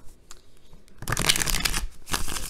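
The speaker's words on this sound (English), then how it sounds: "Just let me get one more good shuffle in." A deck of tarot cards being shuffled for a love reading, brisk papery riffling in two close bursts after a quiet start, with no talk.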